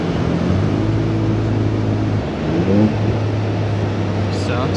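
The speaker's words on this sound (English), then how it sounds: "Sounds good when you downshift." A GMC Yukon SUV with an aftermarket exhaust drones from inside the cabin, then its engine briefly blips and rises in pitch on a downshift before settling back to a steady hum.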